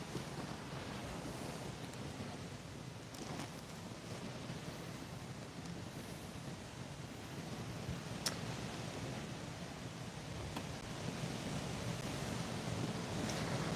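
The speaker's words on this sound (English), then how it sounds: "it is a bit windy still, and you can definitely probably hear it as well" Strong wind roars steadily during Cyclone Alfred's landfall, a dense, continuous rush buffeting the microphone, with a surf-like wash underneath and a few brief sharp knocks.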